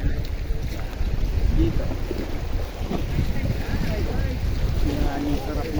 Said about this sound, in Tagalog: Ma-enjoy ang simoy ng hangin. Hampas ng alon.